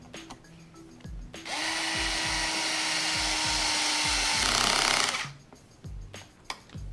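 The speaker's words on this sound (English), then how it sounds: "Use this tool just to drive it home." A hand driver whirs steadily for several seconds while tightening a part during reassembly of a Traxxas XO-1 RC car after a bearing swap. The sound is close and continuous, with small clicks and handling noises before and after.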